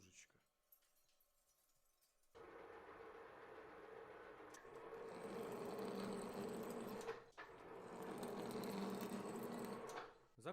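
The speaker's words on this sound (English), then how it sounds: "I will go deeper with a cutter 10 mm in diameter." A lathe cuts metal with a 10 mm cutter while roughing a jet impeller, a loud continuous grinding whir that starts abruptly after a quiet opening, with a brief dip midway before resuming.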